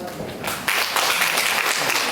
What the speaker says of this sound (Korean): 나오실 때 큰 박수 부탁드리도록 하겠습니다.